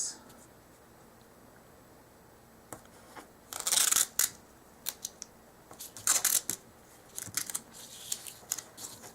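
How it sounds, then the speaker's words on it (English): Scissors snip through a sheet of paper printable for a planner, a few short crisp cuts in bursts followed by scattered lighter clicks and rustles, close by in a quiet room with no talking. "Cut it off"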